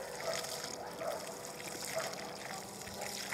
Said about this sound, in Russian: И это дело очень-очень обильно водой поливаю.